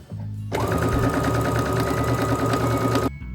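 A sewing machine stitches a seam on a fabric flag banner, its motor running in a steady, rapid mechanical whir for about two and a half seconds, close and fairly loud, then stopping abruptly.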